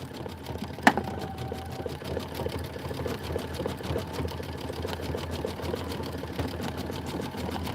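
A sewing machine runs a decorative rope stitch with water-soluble thread, a steady close-up whir of rapid needle strokes after a sharp click near the start, continuing evenly throughout.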